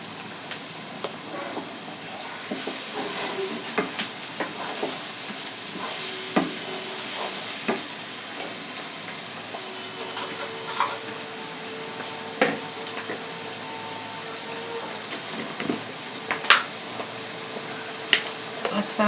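Ginger and garlic paste frying with chopped chicken in a pan, a steady hissing sizzle with scattered scraping and stirring knocks running throughout at moderate loudness.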